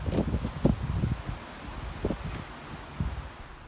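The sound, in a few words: strong wind outdoors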